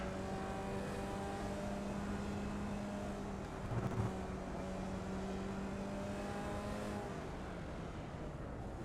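Formula Vee race car engine droning steadily at Oran Park Raceway in the iRacing sim, a continuous buzzing whine held throughout with a brief swell midway, no talking.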